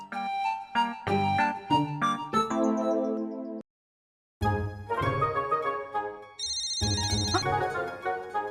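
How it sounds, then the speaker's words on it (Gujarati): A mobile phone ringtone plays an upbeat melodic tune for an incoming call, loud and close, breaking off briefly before resuming with bright high chime notes. "નામ લીધું ને ફોન આવ્યો."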